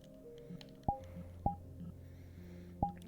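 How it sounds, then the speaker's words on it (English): Electronic phone beeps from a handheld device in a VR roleplay game set in the Trails series, sounding three sharp tones spaced apart over faint background electronic hum. "Got a little beep boop phone."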